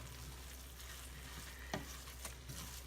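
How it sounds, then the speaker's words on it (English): Onions cooking in a pan over very low heat for rice dressing, a quiet soft sizzle with a few brief stirring scrapes and clicks, no voices. "Just to cook these onions a little bit"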